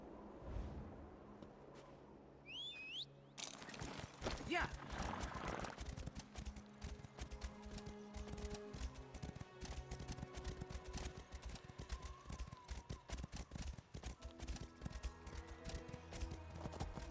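Horse hooves clip-clop in steady, continuous rhythm in the video game Elder Scrolls Online, up close and clear over a mix of game noise, with a brief high whinny-like call at the start.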